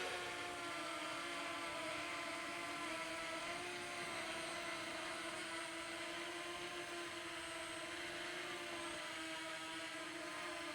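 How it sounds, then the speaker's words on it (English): A Fimi X8 Mini drone flies outdoors in a light breeze, its steady whining motor drone with tonal hum holding constant and fairly distant throughout, with wind noise underneath. "the Fimi is a little hard to manipulate when there is a bit of a breeze here"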